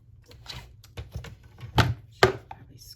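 Paper being scored for a junk journal, a run of soft scraping strokes and light taps with two sharper, louder scrapes near the end, close and quiet with no talking.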